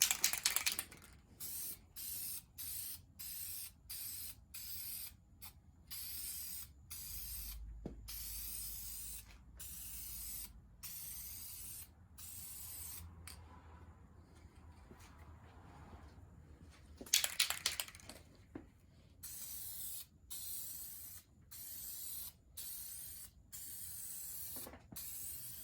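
Aerosol spray paint laid down in light colour coats on a Jeep Wrangler trim ring, heard as repeated short hissing bursts separated by brief pauses, close and fairly quiet, with no talking.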